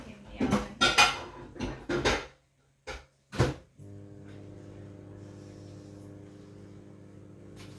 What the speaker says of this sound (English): so I'm going to put it back in the oven.